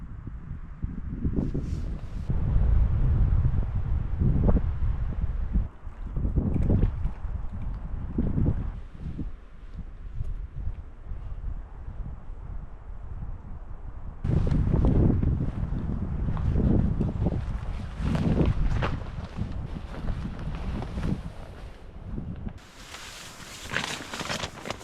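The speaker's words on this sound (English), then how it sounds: "it's extremely windy" Strong gusting wind buffets the microphone at a tent campsite in Killarney Provincial Park, heavy low rumbles surging and easing in waves, with some rustling and fabric flapping.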